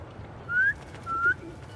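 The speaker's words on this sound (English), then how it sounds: "Try a whistle." Two short rising whistles, the second after a brief pause, call to pigeons in the video game Spider-Man 2, heard clearly over a quiet low background hum.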